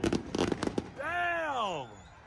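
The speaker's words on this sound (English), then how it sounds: "We're going to let the fireworks display here" Fireworks show going off at a racing event, with a few sharp pops and crackles early on followed by a long, rising-then-falling whistling streak, close and fairly loud over excited background voices.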